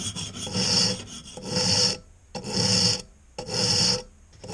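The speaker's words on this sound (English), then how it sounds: "I used a square nut with an Allen cap head screw and started to file both of the pieces together." A metal file rasps steadily across a square nut and Allen cap head screw held together, four long rough strokes in an even back-and-forth rhythm, loud and close with brief pauses between.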